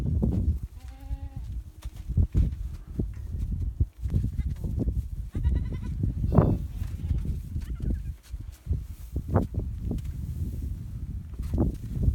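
Several young goats bleat in short, wavering calls scattered through a noisy pen, with shuffling and rustling between cries, some near, some a little farther off.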